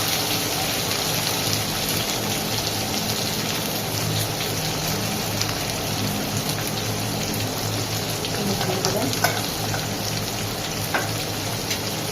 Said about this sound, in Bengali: আলুটা প্রায় 2 মিনিট ভাজা ভাজা হবে